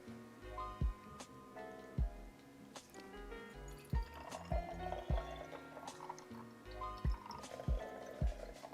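Cognac trickles through a boiled funnel into sterilized bottles, a quiet run of gurgles, drips and glugs whose pitch shifts as each bottle fills, with soft irregular knocks of glass throughout.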